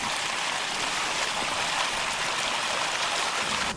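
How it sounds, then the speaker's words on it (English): Water gushing from an opened fire hydrant during firefighter training produces a steady, loud, broadband rush that holds constant throughout without pauses. "open the hydrant slowly. The force of the water will lift the trash up the barrel and out of the steamer opening"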